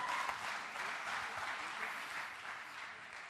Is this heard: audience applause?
yes